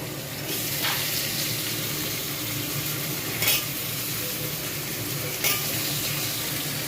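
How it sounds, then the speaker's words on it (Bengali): Potatoes frying in a pan with a steady, close sizzle, joined now and then by stirring sounds and a couple of brief metallic clinks of utensils against the pan. "আলুগুলো দিয়ে ছেড়ে দিলাম ভেজে নেব"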